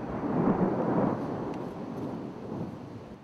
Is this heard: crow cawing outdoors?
no